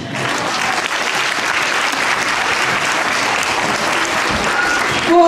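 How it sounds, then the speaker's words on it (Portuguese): A room of children applauds during a school visit by an author. The clapping is loud and continuous, holds steady for several seconds and then swells briefly at the end. "merecem palmas"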